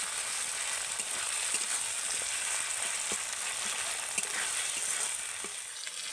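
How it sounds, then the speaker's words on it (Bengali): Tomato and chilli masala for a lote fish curry sizzles steadily in a pan while being stirred, a soft continuous frying hiss broken by occasional light scraping strokes, with no voices. "আবারও ভালো করে নাড়তে থাকবো"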